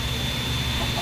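A Minecraft chicken clucking, loud and continuous across a short burst with a dense, bright texture.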